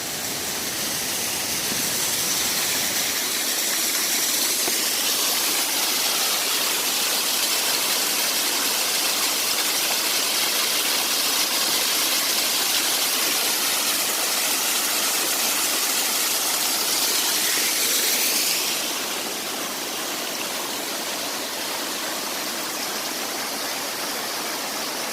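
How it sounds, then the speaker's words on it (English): A river rushes beside the Appalachian Trail near Damascus, Virginia, a steady loud broadband roar of flowing water that runs unbroken throughout and eases slightly near the end. "Got the river right next to you."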